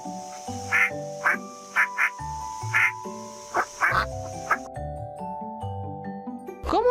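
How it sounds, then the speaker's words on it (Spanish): A duck quacks repeatedly in short, nasal bursts against a backdrop of sustained music tones, heard clearly with no talking. "¿Cómo hace el pato? El pato hace..."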